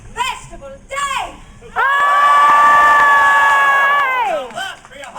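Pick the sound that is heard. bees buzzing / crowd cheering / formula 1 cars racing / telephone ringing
crowd cheering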